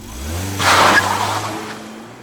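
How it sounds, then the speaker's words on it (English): A car engine revs hard as the car speeds off, a close, rising roar that swells briefly and then eases back to a steady drone. "I slammed on the accelerator and sped off before the Bunny Man could land the blow"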